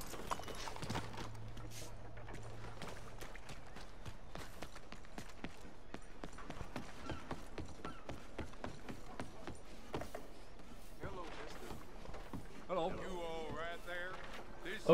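Horse hooves clip-clopping in Red Dead Redemption 2, a fast, close, regular run of hoofbeats that keeps going throughout, with a voice briefly heard near the end.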